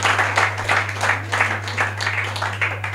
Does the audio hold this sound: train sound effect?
no